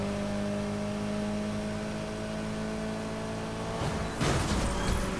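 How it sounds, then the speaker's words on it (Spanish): Mitsubishi Evo 9 engine in the racing video game NFS Heat, a steady droning hum with tonal whine that swells into a louder rev near the end, with no talk. "Me gusta cómo suena este motor"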